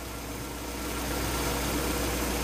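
A car engine idles cold after Auto Shine metal conditioner is added, giving a steady, close, broadband running noise with a low hum that swells slightly and then holds even.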